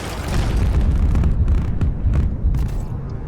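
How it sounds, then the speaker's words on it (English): Explosions in the video game Heart of the Machine, a loud, continuous rumbling barrage of booms and bursts packed closely together for the whole stretch, with no talk over them. "There are explosions."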